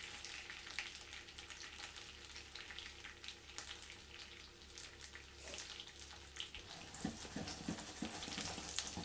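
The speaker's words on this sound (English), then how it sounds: "Meanwhile, these onions are browning nicely." Onions browning in butter and oil for a beef bourguignon, a faint continuous frying hiss with a soft crackle that grows slightly denser toward the end, heard alone without talk.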